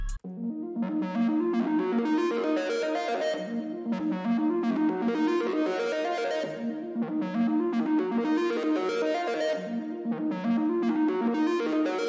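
Electra X synth layer drenched in Valhalla reverb plays a dark melodic loop, sustained chords and notes with shimmering upper harmonics washing together continuously, heard alone and fairly loud.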